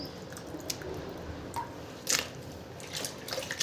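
Potato slices for homemade wafers being rinsed by hand in water, giving soft wet squishes and drips with a few sharper splashes, close and moderately quiet, no voices.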